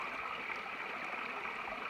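A brook flows through a small wooded valley in the Appalachians, a steady, even rush of water heard close and unbroken with no talk.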